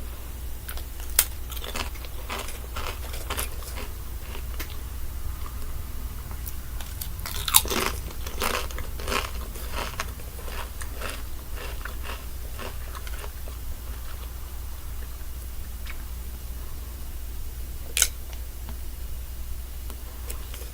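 Crisp crunching bites and chewing of out-of-date Pringles, a series of sharp snaps scattered irregularly over a low steady hum, close to the mic with a few louder cracks standing out and no speech.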